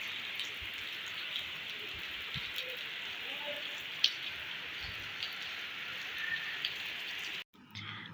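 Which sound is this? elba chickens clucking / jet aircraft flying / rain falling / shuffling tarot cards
rain falling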